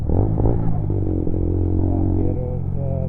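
A Lexmoto Assault 125cc motorcycle idles with a loud, noisy exhaust in the rain, giving a dense, steady, close low rumble with a slight clattering texture throughout.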